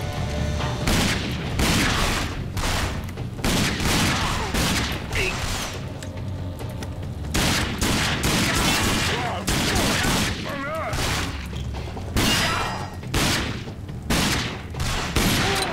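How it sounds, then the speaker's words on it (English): Gunfire in the first-person shooter video game RAGE, rapid volleys of loud close shots and booms repeating in bursts throughout, with brief lulls between. "I just shot you in the fucking head and you didn't die."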